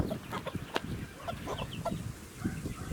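A hen on a small Ukrainian homestead that also keeps nutrias clucks steadily at close range, with busy, overlapping farmyard chatter and no speech.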